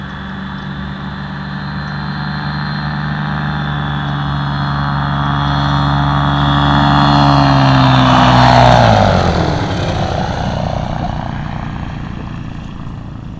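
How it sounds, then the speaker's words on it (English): A vehicle engine idles in a VR video game with a steady droning hum, swells slightly, then winds down as it stalls and cuts out, leaving a faint fading tail. "I think I idled it and it turned off."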